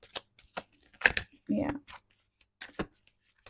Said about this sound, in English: I'm shuffling the cards and I got the first card.